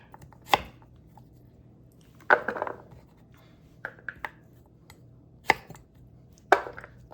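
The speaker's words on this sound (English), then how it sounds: "we're just gonna keep dicing these beets and staining my cutting board" A knife dices beets on a homemade maple end-grain wooden cutting board, producing sparse, sharp knocks: a single chop, a short cluster of cuts, a few lighter taps, then two more distinct strikes in a quiet room.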